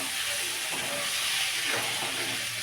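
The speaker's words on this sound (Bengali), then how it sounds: "কষানো হচ্ছে" Masala of ginger paste, chili paste, tomato and ground coriander frying in a pan, a steady loud hiss and sizzle with no pauses.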